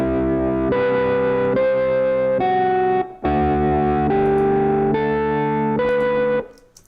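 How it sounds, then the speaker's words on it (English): A beat made in FL Studio plays a guitar line through Guitar Rig with heavy extra distortion, loud sustained chord changes in steady blocks with one brief cut near the middle, and no voices. "that's the version with the extra distortion"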